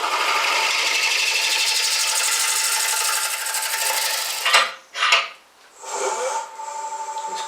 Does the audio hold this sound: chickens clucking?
no